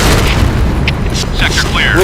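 A grenade explosion in the shooter game PointBlank, a loud, sustained low boom that fills the whole moment while a voice talks over it.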